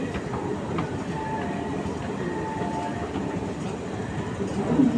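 A train in Hong Kong rolls past with a steady, close rumble and faint clickety-clack, with a brief rise near the end and no clear speech.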